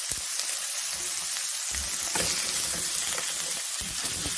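Pork belly sizzles and crackles steadily as it fries, a constant bright hiss with occasional small pops and clinks close by.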